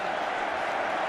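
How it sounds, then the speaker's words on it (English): Chelsea fans applauding Didier Drogba late in extra time of a football match, a steady wash of crowd clapping and cheering, broad and even across the stadium for about a second. "Didier Drogba milking the applause of the Chelsea fans"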